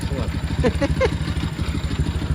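An old Dnepr motorcycle engine idling on a frosty day without its battery fitted, a steady close chugging beat with light mechanical clatter, under a man's speech.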